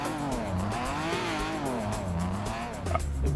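A BMW 325is drifting in a GTA video game, its engine revving up and down with continuous tire squeal, loud and close with no talking.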